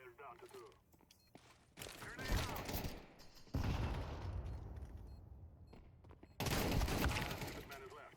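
A shotgun fires in the online game Entropia Universe, several loud blasting bursts with rumbling tails separated by quieter stretches, with a voice talking faintly between them.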